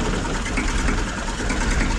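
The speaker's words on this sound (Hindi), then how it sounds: "200 आरपीएम ट्रैक्टर स्टार्ट हो रहा है" A 1998 Massey Ferguson 35 tractor engine idles at very low RPM, giving a steady, dense, continuous mechanical chug that stays loud and even throughout, with no voices.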